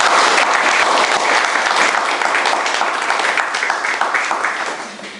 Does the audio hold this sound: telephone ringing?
no